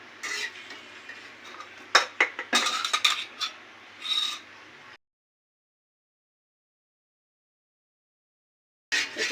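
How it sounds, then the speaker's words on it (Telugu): A chapati being flipped on a hot pan in a home kitchen, with scraping and sharp clattering taps for about five seconds, then silence before a brief return of clatter at the end. "ఇప్పుడు మనం చపాతీ తిప్పుకుందాము."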